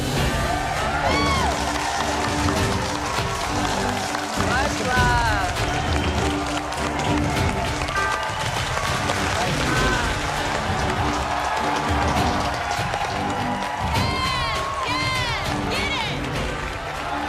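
A crowd of former MasterChef contestants in the MasterChef kitchen cheers, whoops and applauds loudly and continuously, while voices shout and talk within the noise.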